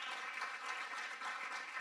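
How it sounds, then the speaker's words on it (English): An audience applauds a performer named Kirti at a mridangam arangetram, a dense, steady wash of clapping from many hands with no voices over it. "huge round of applause"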